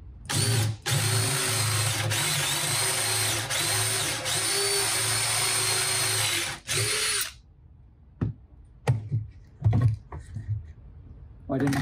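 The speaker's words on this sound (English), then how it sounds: "These bits are sometimes called Forstner bits. That's a brand name, and they will cut holes pretty aggressively too." A cordless drill fitted with a Forstner bit bores a clean hole through wood, running loud and steady for about seven seconds, then stops; scattered knocks and handling sounds follow.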